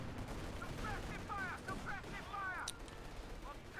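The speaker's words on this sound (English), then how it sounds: "Guards rifles plinking away on the Panzer II." Guards rifles firing at a Panzer II in a World War II strategy video game, a steady crackle of small-arms shots with whizzing effects amid dense battle noise.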